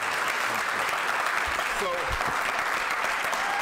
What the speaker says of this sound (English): He definitely deserves that applause.